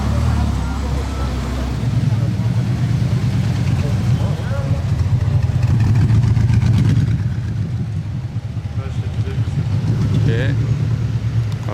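Ferrari California T engine rumbling past at street level, a sustained low, throaty drone that swells and eases slightly over several seconds, with a constant background of traffic and outdoor noise.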